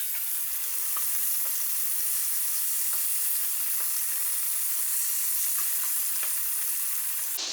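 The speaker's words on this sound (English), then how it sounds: "I'm almost finished frying the chicken." Steady, dense crackling sizzle of buttermilk-marinated chicken frying in hot oil, with small pops scattered throughout, close and continuous with no talking.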